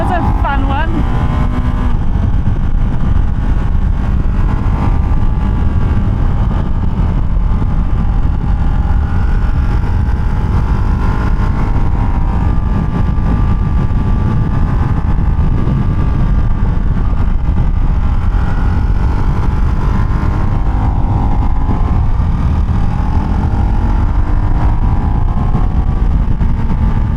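A Ducati Hypermotard 698 single-cylinder motorcycle ridden on the road, its engine droning steadily and loudly alongside rushing wind for the whole stretch, with tones rising and falling as it accelerates.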